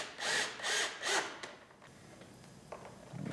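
A power drill drives screws into the outside edges of a trim panel on an Acura RDX being reassembled, three short loud whirring bursts close by, followed by quieter clicks and handling noise.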